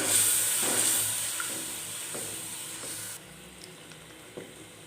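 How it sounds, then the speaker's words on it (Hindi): Yogurt-based gravy for beef kofta sizzles and hisses in a pan, a steady close frying sound that starts louder and drops to a quieter simmer partway through, with a few faint stirring clicks and no talk. "अब हम इसको अच्छी तरह से भून लेंगे।"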